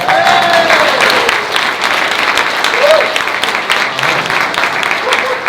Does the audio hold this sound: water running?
no